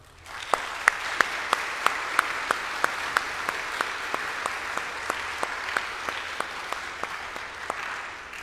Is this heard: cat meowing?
no